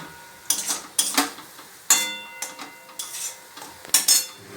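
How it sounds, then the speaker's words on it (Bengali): Metal utensil scraping and clinking against a pan while a meat dish is sautéed in a little oil in a home kitchen, in irregular bursts of stirring strokes with brief pauses between them. "এটা কষানো হচ্ছে"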